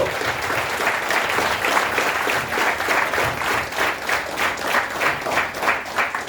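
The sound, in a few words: audience clapping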